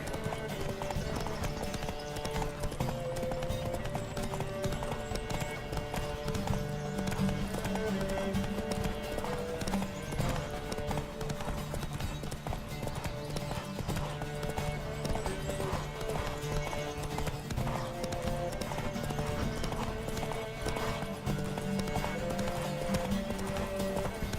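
A horse gallops steadily in the video game The Witcher 3: Wild Hunt, with fast, rhythmic hoofbeats over a constant bed of music, punctuated by an occasional whinny.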